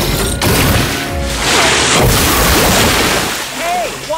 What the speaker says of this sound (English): Water cannons!